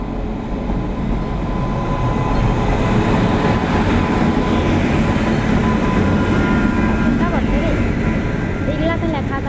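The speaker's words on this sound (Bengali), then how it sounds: "এই দেখো, ট্রেন চলেও এসছে।" A train rolls into a platform at Howrah Station in Kolkata, a loud continuous rumble and rattle of wagons with brief squeals near the end, crowd talk underneath.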